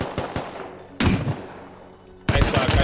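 Gunfire in the Rust survival game: a few sharp shots early on, then two louder, longer bursts of fire about a second apart, close and loud with no talking.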